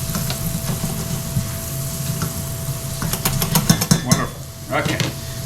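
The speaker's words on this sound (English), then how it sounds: "we're just going to give this a stir so as that everything gets coated in the bacon grease" Brussels sprouts get stirred in hot bacon grease in a pan, a steady close sizzle running underneath with a cluster of scraping, clinking utensil strokes toward the end.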